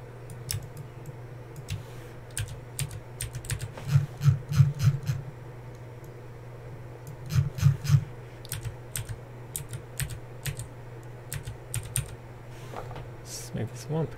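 Arrow keys on a computer keyboard pressed in quick clusters of sharp clicks, close and fairly loud over a steady low hum, with some talking.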